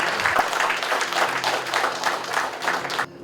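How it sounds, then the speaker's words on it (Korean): Sustained applause from an audience at a Korean political event, a steady dense wash of clapping lasting about three seconds before cutting off abruptly. "이광재 의원님께 다시 한번 박수 부탁드리겠습니다."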